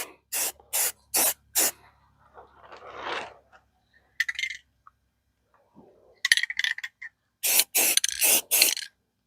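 An aerosol can sprays coats of paint onto a gun outdoors in short, sharp hissing bursts: a quick series of four, then scattered smaller sprays, and a final cluster of four. The bursts are close and loud, with near silence between them.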